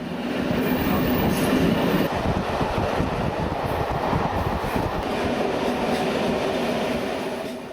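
A train pulls out of Novi Sad station in Serbia on the Bar–Belgrade–Budapest line, its steady loud rumble and rattling wheels filling the whole stretch with no talk.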